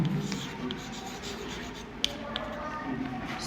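Chalk or marker writing an English grammar example on a classroom board, soft scratchy strokes and taps close by, with a couple of sharper knocks, under a quiet room background.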